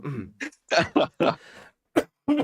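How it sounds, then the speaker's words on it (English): A man coughs and clears his throat in several short, close bursts, a hoarse rasp followed by a couple of sharp coughs with brief pauses between them. "Sorry, my cough."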